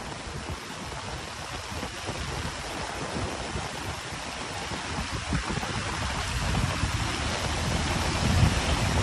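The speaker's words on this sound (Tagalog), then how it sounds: "bumuhos na naman itong malakas na ulan" Heavy rain pouring on Dolomite Beach along Manila Bay, a dense, continuous hiss and wash that swells slightly louder toward the end, with no talking.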